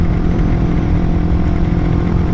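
Mazda RX-8 fitted with a new aftermarket exhaust, a low steady idle rumble held close and loud without revving.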